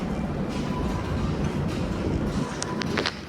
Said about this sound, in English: We're only going to be going 2 stops on the Line 1 subway.